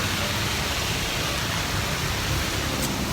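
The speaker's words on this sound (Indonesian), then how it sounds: "Jadi Bandung hujan deras banget" Heavy rain falls at night in Bandung, a dense, steady broadband hiss that stays constant and loud throughout, with no voices over it.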